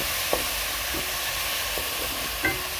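Onions frying in a pan and being stirred, a dense steady hiss of sizzling oil throughout with a few brief scrapes of the spoon, close and even in level, with nobody talking.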